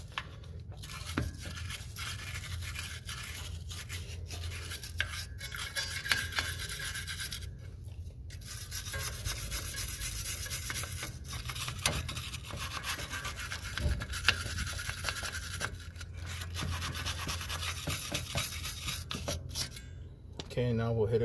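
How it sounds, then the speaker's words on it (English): Steady close-up scrubbing of rust buildup on a part from a 2005 Toyota Prius, a continuous abrasive rasping that runs without pause, with voices talking over it. "just work the area until you see all the buildup, all the rust, as much of that rust you can take off"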